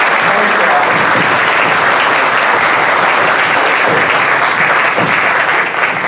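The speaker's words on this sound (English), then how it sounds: "we want to definitely give a round of applause for our candidates who are here for us" A steady burst of clapping from a crowd at a city-wide PTO candidates' forum, loud and sustained throughout without letting up.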